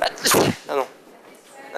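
A person sneezes sharply once up close during a French conversation about eye exams, followed by brief speech and quieter voices.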